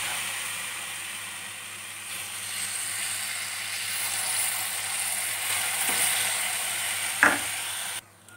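Kambu (pearl millet) paniyaram cooking in oil in a paniyaram pan, with a soft, steady sizzle close by, a brief metallic clink near the end and a sudden stop.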